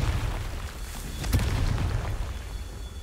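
Confringo fire spell in Hogwarts Legacy bursting into a deep, rumbling explosion that swells briefly and then holds as a dense, loud roar through the clip.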